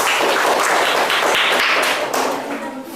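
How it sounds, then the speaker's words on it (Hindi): Classroom children clap together for a classmate during a Hindi dictation lesson, a loud, dense burst of applause that fades slightly toward the end. "ताली बजना चाहिए।"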